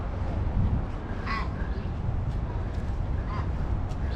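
A bird squawks among trees in Sydney's Royal Botanical Garden, giving a few harsh caw-like calls at moderate distance over a steady wash of outdoor background noise.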